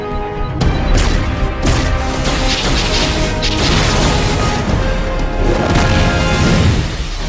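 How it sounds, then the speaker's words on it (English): Artillery barrage called down in the superhero game DC Universe Online: a dense run of booming blasts and crashing impacts rolls on for several seconds, loud and close, with no talk over it. "Concentrate fire on Luthor while I call down some artillery."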